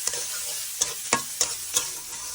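Oil hisses and sizzles steadily in a pan while a spoon scrapes through it in five or six sharp, unevenly spaced strokes.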